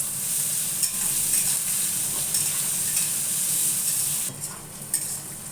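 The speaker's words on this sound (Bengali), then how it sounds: "পেঁয়াজটা ভাজা হয়ে গেছে" Chopped onions fry in oil alongside browned potatoes for a fish curry, a constant close sizzle broken by spatula scrapes, quieting briefly near the end.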